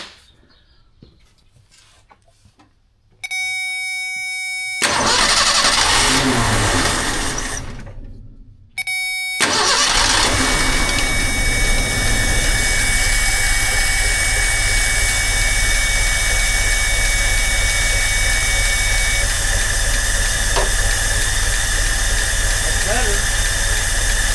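An old six-cylinder car engine, misfiring with blow-by after about 15 years unused, cranks with a high squeal, then catches and settles into a loud, steady, rough, low idle that runs continuously to the end.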